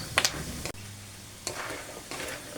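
Sugar-coated peanuts crackling in a pan while cooking, faint popping and sizzling with a few sharper stirring crackles spaced through a quiet background.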